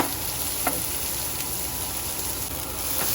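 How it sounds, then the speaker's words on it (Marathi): Mustard seeds and curry leaves splutter in hot oil in a pan, a dense, steady frying hiss with a few faint crackles and pops. "मस्टर्ड सीड न्हू स्प्लटर जावपा लागले ओके."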